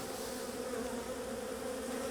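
Honey bees buzz at an open hive, a steady close-up hum that fills the air without pause, with no voices.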